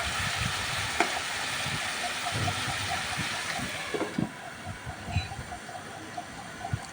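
Fish curry sizzles and sputters steadily in a pan as it is sautéed, a close, even frying hiss with a few soft stirring knocks and no talking.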